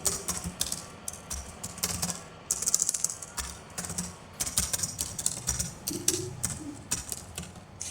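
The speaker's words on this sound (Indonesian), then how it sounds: "Kita ketikkan lagi di bagian header." Typing on a computer keyboard while entering a header in MS Word: quick, close clicky keystrokes in uneven bursts with brief pauses, alone and moderately loud.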